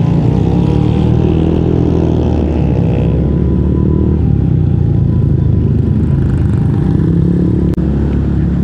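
A motorcycle fitted with a loud racing exhaust drones steadily up close, a continuous rumbling engine roar that stays strong throughout without talk.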